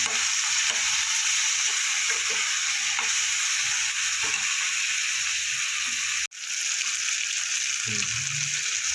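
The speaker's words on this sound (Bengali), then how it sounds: "পরিমাণ মতো হলুদ দিয়ে আমি আলুটা একটু নাড়াচড়া করবো ভালো করে" Potatoes frying with turmeric and salt in a pan for Bengali bitter gourd chorchori sizzle steadily while a spatula stirs and scrapes in irregular knocks, close and fairly loud, with a brief pause near the end.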